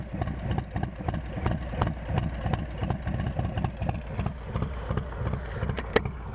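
Harley-Davidson motorcycle fitted with a Stage 2 475 cam, idling with a loping, choppy rhythm of low uneven beats, close and steady, with no voices.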